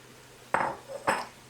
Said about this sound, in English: I'm going to give it a stir before I put in the garlic